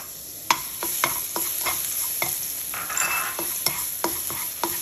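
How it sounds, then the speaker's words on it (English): Minced garlic, four cloves, stir-fried in hot oil in a wok for pork fried rice, giving a steady close sizzle broken by repeated sharp scrapes and clacks of a spatula against the metal. "you stir fry the garlic"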